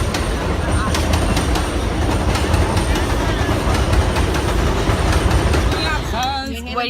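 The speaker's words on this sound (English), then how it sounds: "There goes the train." A train rumbles steadily past a station, a loud continuous rolling roar with rail clatter throughout, while a person speaks over it near the end.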